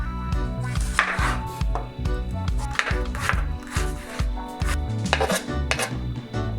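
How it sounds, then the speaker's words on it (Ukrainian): Rapid rhythmic knife chopping of onions on a board, many quick even strokes, close and loud, over a low background hum. "Дрібно нарізаємо цибулю і відправляємо в фарш."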